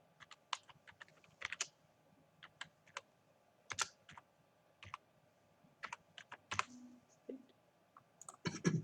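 A password is typed on a computer keyboard during an account login: irregular bursts of crisp key clicks, some single taps and some quick runs, close and clear over a quiet background with no talking.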